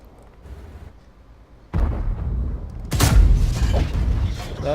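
A single heavy tank cannon shot in World of Tanks, a sharp loud boom that rises out of low rumbling ambience, preceded by a smaller mechanical thump.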